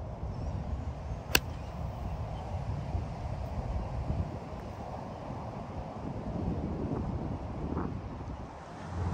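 Steady wind blowing across an open golf course fairway in Naples, Florida, a broad low rumble of gusts buffeting the microphone throughout, with one brief sharp tick early on and no voices.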